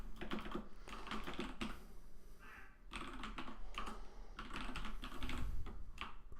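Typing on a computer keyboard while scripting in Roblox, with steady bursts of close, clicky keystrokes and short pauses between runs.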